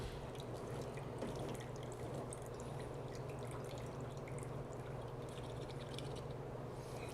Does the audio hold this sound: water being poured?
yes